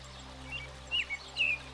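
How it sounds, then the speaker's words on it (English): An American robin sings in a backyard, a few brief bright chirping phrases spaced apart over a low steady background, clear and fairly close. "American robin."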